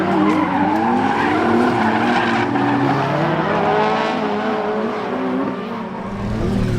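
A drift car slides around a track with a loud, sustained tire squeal over its howling, revving engine, continuous for several seconds with a slight dip near the end.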